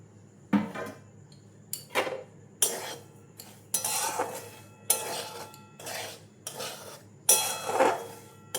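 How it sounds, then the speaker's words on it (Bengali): Semolina dry-roasting in a wok while being stirred, heard as repeated scraping strokes of a spatula across the metal at a steady rhythm, each sweep a short hiss of grains shifting. "সুজিটা ভেজে নিচ্ছি"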